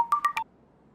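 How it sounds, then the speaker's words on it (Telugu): An incoming call rings on a phone as three quick, close electronic beeps in a steady rhythm, then stops and leaves near silence. "మా అబ్బాయి ఫోన్ చేస్తున్నాడు"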